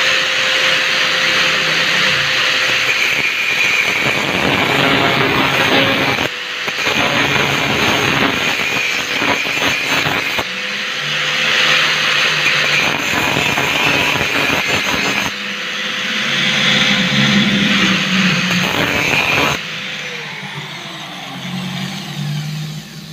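An angle grinder whines loudly and continuously while cutting the seal on an outdoor split AC unit's valve, with the pitch dipping and rising in several bursts and short pauses between cuts.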